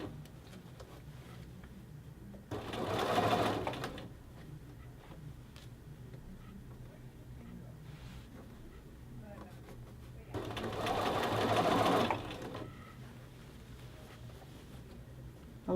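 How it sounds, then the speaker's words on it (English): A sewing machine runs in two separate bursts of about a second or two each, a close, rapid mechanical whir while stitching a men's shirt collar band, with quiet stretches between and a voice talking. "You just want to sew with a regulation stitch."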